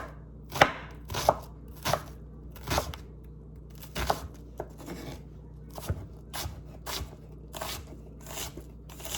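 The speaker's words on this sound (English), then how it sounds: "when you're slicing down in and you lift your knife up, it'll pull up one of these slices of the onion" A knife slices down through an onion on a cutting board in a steady run of about fifteen crisp, close chops, each a sharp crunch followed by a short pause, with no voices.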